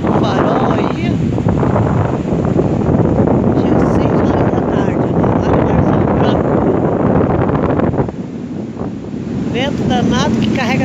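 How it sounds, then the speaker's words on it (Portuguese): Strong wind buffets the microphone at a small beach at Prainha in Torres during a storm surge, with heavy surf roaring beneath. The rumble stays loud throughout, briefly easing near the end, and a voice speaks over it. "Vento forte."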